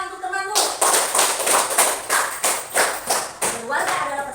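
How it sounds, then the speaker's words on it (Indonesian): A classroom of pupils claps for a classmate, a burst of close, rhythmic hand clapping that starts abruptly and pulses in uneven waves throughout. "Baik, tepuk tangan untuk temanmu."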